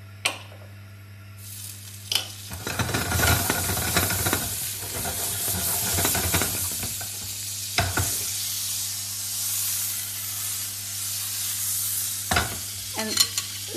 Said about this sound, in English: A little bit of butter to cook the omelette.